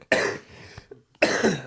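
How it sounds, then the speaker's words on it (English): Two harsh, close coughs, one at the start and another a second later, with a short rasping breath between them. "I can't stop coughing, man."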